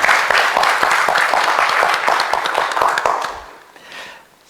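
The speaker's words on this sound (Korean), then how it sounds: "우리 예수님께 영광의 박수를 돌려드리고 원합니다." A church congregation gives sustained applause during a Korean-English sermon, dense clapping that fills the space steadily for about three seconds before thinning out, with a brief faint swell of claps near the end.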